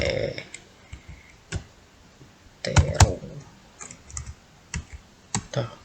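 Keys tapped on a computer keyboard in short, irregular bursts of clicks, with a denser cluster in the middle and scattered single strokes, close and fairly crisp with no talking.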